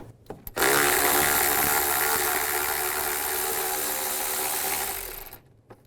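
Power tool or ratchet spinning 10mm bolts out of the alternator bracket on a 2005-15 Nissan Xterra, a close, steady whirring burst of about five seconds that starts abruptly and stops, alone without talk.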